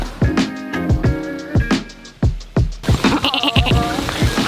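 A person imitating a goat outdoors in Antigua, letting out a run of loud, close, wavering bleats in quick succession.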